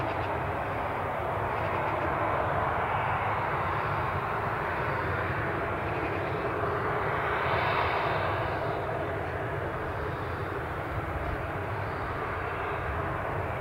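An incoming airplane landing at Newcastle International Airport makes a steady, loud jet engine roar that holds for the whole stretch, with no talking.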